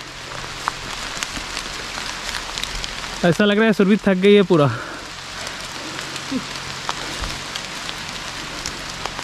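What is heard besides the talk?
heavy rain falling during a trek near Nainital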